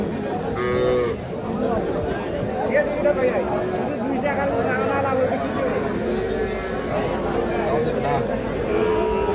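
Shahiwal bull calves moo repeatedly at a busy cattle market in Ambari, their calls rising over a steady hum of crowd chatter and people talking nearby.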